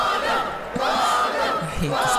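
Crowd clamour from the Professor Layton vs Phoenix Wright video game: a steady wash of many voices shouting together, loud and continuous for the whole stretch.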